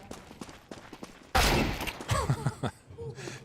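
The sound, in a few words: rifle gunfire in a Counter-Strike video game match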